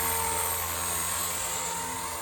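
Blade Revolution 235 CP RC helicopter in flight, a continuous high-pitched rotor and motor whine with a steady buzzing tone, fairly close and alone without talk.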